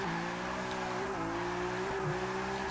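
A manual car drifts through a corner during a clutch-kick drift lesson, its engine holding a steady droning tone while the tires squeal and skid. Close and continuous, with a brief shift in pitch near the end.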